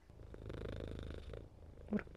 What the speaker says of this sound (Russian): мурчит вам микрофончик. Слышите?